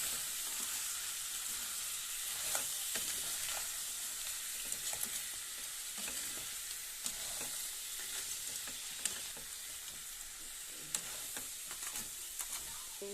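Crab curry with salt and turmeric stirred in a hot pan, a continuous bright sizzle with repeated scraping strokes of the spoon, close and steady throughout, with no voices.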